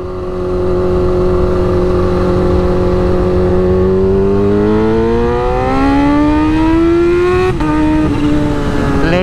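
Kawasaki H2 Carbon motorcycle accelerating hard at full throttle, engine note rising steadily in pitch for several seconds, then a brief break as it shifts gear before climbing again; loud, close and continuous.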